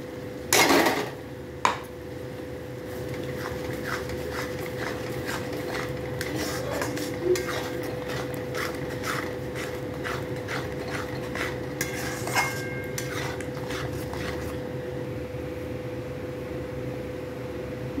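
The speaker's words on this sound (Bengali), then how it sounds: "এবার আমি কাজু বাদাম কিশমিশ বাটাটাও দিয়ে দেবো, দিয়ে লো ফ্লেমে নাড়বো যাতে তলায় না ধরে যায়" Chicken chaap stirred in a pan with cashew-raisin paste over a low flame: repeated light scrapes and clinks of a utensil against the pan run steadily under a constant background hum, with no voices.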